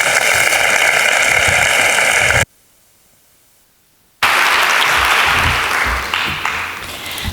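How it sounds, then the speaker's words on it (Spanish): Applause from an audience at an education event in Viladecans, loud and continuous, cut by a sudden silence of nearly two seconds, then resuming and slowly tapering off. "Un aplaudiment."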